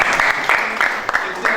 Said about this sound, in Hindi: देश सेवा, बहुत बढ़िया, तालियां बजाइए।